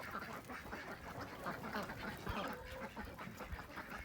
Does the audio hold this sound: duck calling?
yes